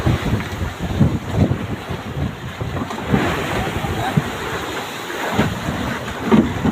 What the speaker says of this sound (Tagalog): Medyo malakas ang ano talaga. Punas ng hangin.